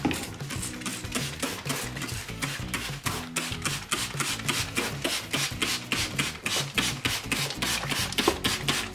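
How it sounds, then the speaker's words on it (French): A brush scrubs a rabbit's litter tray in fast, regular back-and-forth strokes, making a close, dry, scratchy rubbing that repeats steadily for the whole stretch with no speech. "Et avec la brosse, je vais venir frotter."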